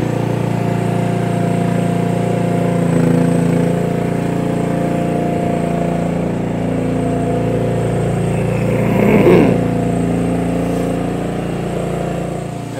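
A radio-controlled towable forklift drives over to load onto a trailer, its engine droning steadily and loudly throughout with slight swells in revving and a faint rattle partway through, with no talking.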